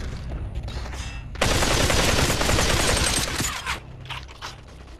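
Rapid automatic gunfire in the VR shooter Population: ONE, a sustained loud burst of shots lasting about two seconds, preceded and followed by quieter scattered firing and background game noise.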